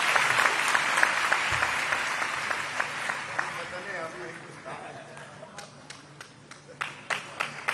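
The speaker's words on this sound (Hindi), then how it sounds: "जोरदार तालियां बजाइए।" An audience at a girls' education scheme event claps in a sustained round of applause that thins out into scattered individual claps, with speech heard over it.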